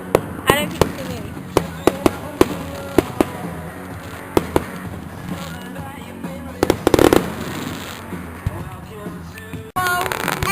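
Fireworks bursting at an outdoor summer display, a run of sharp cracks and booms spaced irregularly, some loud and close, with a dense flurry near the middle, under crowd noise and voices.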